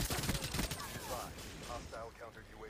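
Rapid bursts of gunfire from the Call of Duty Black Ops 3 beta on PS4, dense and loud at first, then thinning as a voice talks over the game audio.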